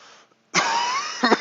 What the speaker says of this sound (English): I keep coughing in the microphone.